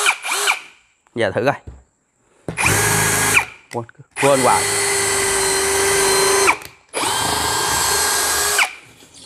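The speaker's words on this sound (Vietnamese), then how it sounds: "khoan tường" A DEKTON DK 2140MKT cordless drill bores into a wall in several loud whining bursts of a few seconds each, separated by pauses, with brief speech between them.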